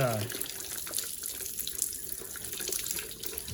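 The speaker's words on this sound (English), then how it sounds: "yeah, let her drain into a bucket." Coolant drains from a 2008 Hyundai Tiburon GS 2.0 into a bucket during a timing belt and water pump job, a steady close splashing pour that runs continuously throughout.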